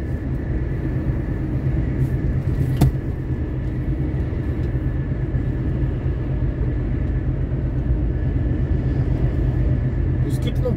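Steady low road rumble and engine drone inside a truck cab on a highway near Maringá and Sarandi, Paraná, continuous and fairly loud, with one brief sharp tick partway through.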